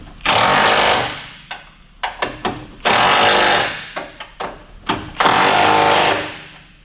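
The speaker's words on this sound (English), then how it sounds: "don't forget to tighten the top strap bolt" An impact or pneumatic tool tightens the top strut bolt on a 1998-2002 Toyota Corolla, with several loud rattling bursts and short stuttering pulses between them, all close and without talk.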